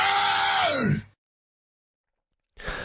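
A voice imitates a scream in one loud, strained cry that rises and then falls before cutting to silence, with a brief burst of sound returning at the end.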